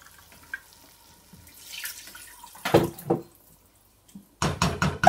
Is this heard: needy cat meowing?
no